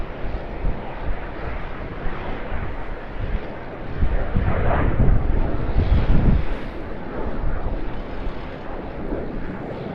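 A Pilatus PC-24 air ambulance jet at Sydney Airport, heard as a moderate engine rumble that swells around the middle and then eases off, mixed with some wind buffeting and no clear speech.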